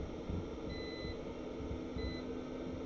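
A multimeter gives two short, steady beeps during a continuity test on a Nintendo Switch circuit board, close against a constant background hum.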